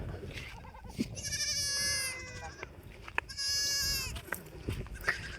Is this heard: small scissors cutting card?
no